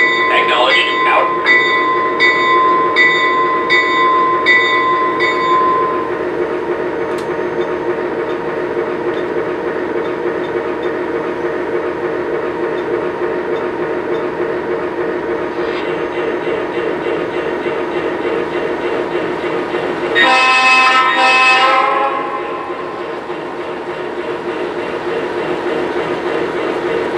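A Lionel Legacy R-16 Sharknose model train's sound system plays diesel engine rumble that builds with throttle, joined by bell and horn-like tones at the start and again near the end, loud and close.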